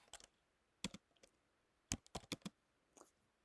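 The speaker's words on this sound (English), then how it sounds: "I can start typing." Keys clatter on a computer keyboard in short, quiet bursts of clicks separated by pauses, close and alone with no talking.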